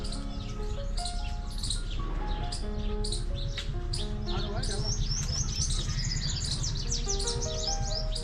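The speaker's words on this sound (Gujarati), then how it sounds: "અલગ અલગ પ્રજાતિની નાની મોટી રંગબેરંગી ચકલીઓ બીજા ત્રીજા પક્ષીઓ" A dense chorus of sparrows and other small birds of many species, with squirrels among them, chirps and tweets continuously at a feeding spot, many overlapping calls filling the air at close range, busy and loud.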